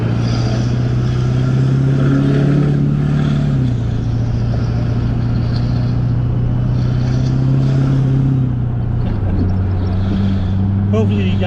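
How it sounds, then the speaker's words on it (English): A Duramax diesel truck fitted with a 67mm stealth turbo drones loudly and steadily, its engine tone stepping up and down through gear changes, with someone talking over it from inside the cab. "That Duramax Tuner 67mm stealth turbo."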